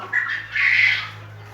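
A rooster crows close by in a single strained call, rising and holding briefly before trailing off, with no talk over it.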